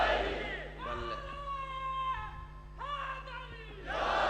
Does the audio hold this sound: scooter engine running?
no